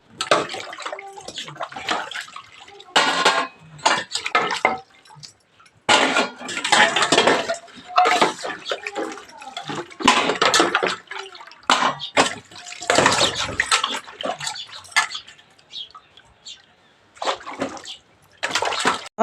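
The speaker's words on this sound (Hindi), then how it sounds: "तो उन बर्तनों को भी जल्दी से साफ़ कर लेते हैं" Dishes are scrubbed and rinsed under running water in a village home, with bursts of splashing and gushing broken by brief pauses, close and fairly loud throughout.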